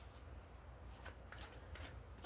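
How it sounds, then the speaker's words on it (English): Tarot cards being shuffled, a steady papery riffle and slide of cards repeating through the clip, close and fairly quiet with faint background hum. "Let's get a good shuffle."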